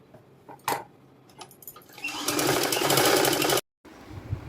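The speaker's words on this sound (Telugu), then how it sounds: "ఇలా మీరు ఇప్పుడు దీని మీద ఇలాగా ఒక చిన్న కుట్టు అయితే వేసేసుకుందాము" Sewing machine stitching cloth for a cut-work hand design: a few light taps and short starts, then a loud, steady whir for about a second and a half that stops abruptly.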